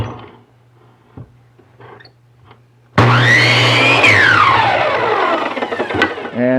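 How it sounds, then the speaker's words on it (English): Chop saw cutting wood to length: quiet room tones, then the motor spins up loudly with a whining pitch that drops as the blade bites, ending in a sustained cutting roar. "I'd just set up my chop saw and cut a whole bunch of these out"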